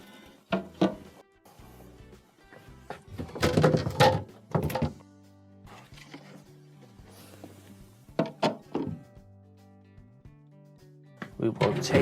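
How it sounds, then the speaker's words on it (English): Refrigerator shelves and drawers are lifted out during a defrost repair, giving scattered close plastic thunks, knocks and sliding scrapes at irregular intervals while someone talks throughout. "going to need to take off all of the shelving here in order to access the back panel"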